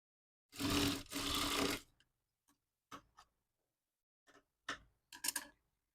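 A sewing machine stitches folded cloth for a designer bow. One loud, continuous run of stitching lasts about a second, followed by scattered light clicks and taps in near silence.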